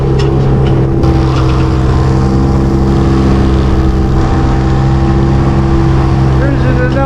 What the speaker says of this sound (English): we're going to motor for a while